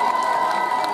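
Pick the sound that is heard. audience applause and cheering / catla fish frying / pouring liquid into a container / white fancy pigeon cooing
audience applause and cheering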